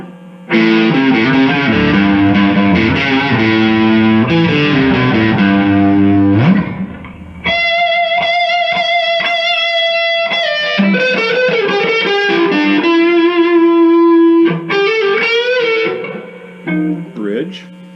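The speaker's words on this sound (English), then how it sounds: "distorted tones with the neck first" A PRS SE Custom electric guitar on its neck pickup plays heavily distorted chords and sustained notes, loud and up close, with brief pauses between phrases.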